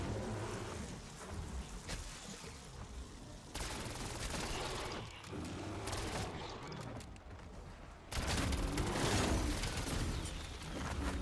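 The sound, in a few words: cluster grenade explosions in the video game Black Ops 7 Zombies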